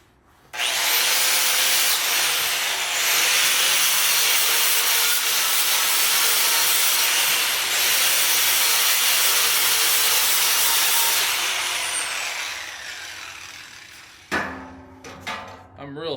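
A spinning wire wheel cleans a metal weld: a loud, steady, harsh whirring scour holds for about eleven seconds, then fades as it winds down, followed by a few brief knocks and a short spoken phrase.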